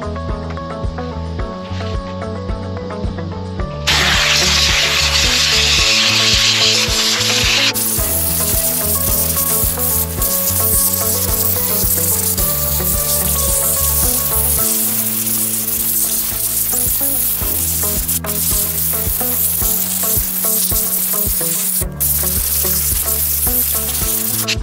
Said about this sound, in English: we're going to use the air compressor and blow it off